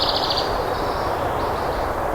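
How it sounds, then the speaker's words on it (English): Birds chirping outdoors in the morning at a campsite, a steady wash of high calls and tweets over constant background noise, with a brighter burst of chirping at the start and no talking. "Nothing like waking up outside to the chirping birds."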